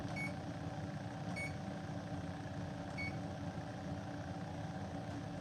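An older kitchen oven's control panel gives three short, faint electronic beeps spaced about a second apart, over a constant loud hum or fan drone.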